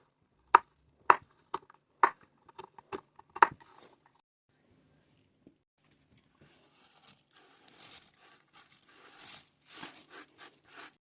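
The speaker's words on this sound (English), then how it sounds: "You can start chopping the roasted hazelnuts in coarse pieces." Roasted hazelnuts are chopped into coarse pieces with a knife on a cutting board: about ten sharp, distinct chops in an uneven rhythm, followed by softer scraping and rustling as the pieces are moved around.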